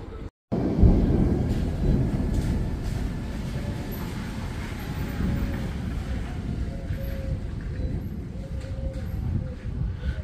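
Low, deep thunder rumbling on and on in Crimea, loud and rolling, with a faint steady hiss of rain beneath and no voices.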